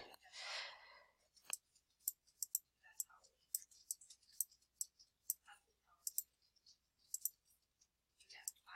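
A computer mouse clicks repeatedly while navigating a word-processing program, with a dozen or so sharp, close, quiet clicks at an uneven pace, plus a breathy sound at the start and faint low speech.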